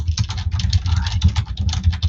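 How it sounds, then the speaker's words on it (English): Aggressive typing on a computer keyboard, loud and close, with rapid uneven keystrokes clattering continuously. "Oh god, the aggressive typing."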